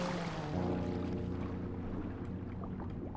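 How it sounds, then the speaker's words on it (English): A police boat's engine in the video game GTA 5: a steady low drone with a droning harmonic hum, continuous and fairly close, like a motorboat running, with water wash underneath. "Oh, I see a police boat."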